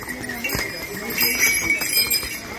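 Horses walk along the rainy Kedarnath pilgrimage trail with clopping hooves, a faint ringing bell and a steady tone nearby, while a person talks over them.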